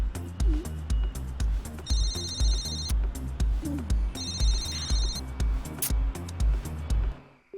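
Telephone ringing on an outgoing call, a steady pulsing ring-back tone repeating in regular bursts over a low rhythmic rumble, with no voices.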